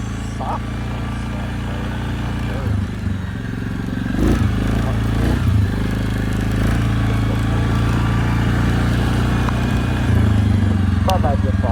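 A 2022 Suzuki King Quad 750 ATV rides through packed snow, its engine droning steadily and loudly up close with a rising surge midway, while a voice talks over it.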